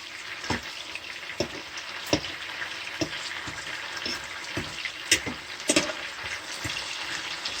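Chicken wings pan-fry in bourbon BBQ with a steady close sizzle, broken by fork scrapes and clinks as pieces are flipped, plus a few sharper pops; no one speaks.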